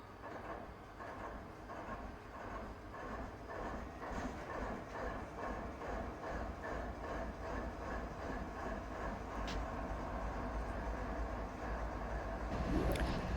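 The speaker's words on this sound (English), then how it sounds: "I'm going to start the locomotives up. There's only one, but it's starting now." A simulated diesel locomotive engine in the RUN8 train game starts up with a steady rhythmic chugging throb that slowly builds in loudness over several seconds, with no one talking.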